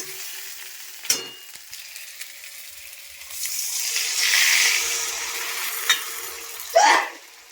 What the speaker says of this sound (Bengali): আমি এখন এর মধ্যে জল দিয়ে দিব।